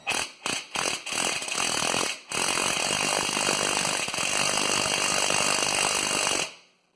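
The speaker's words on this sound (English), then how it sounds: "Just move it slowly with the impact." A pneumatic impact wrench drives a bolt on a Subaru rally coilover during suspension installation, with a few short bursts and then a long, loud, steady rattling run that cuts off abruptly.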